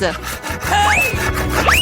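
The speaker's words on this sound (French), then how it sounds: "Je pense que nous allons avoir besoin d'une scie." Harsh rasping strokes of a blade sawing back and forth through a hard Snickers chocolate bar, close up, with a couple of rising squeaky scrapes.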